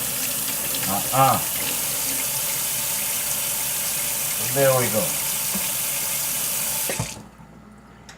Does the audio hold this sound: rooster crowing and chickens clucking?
no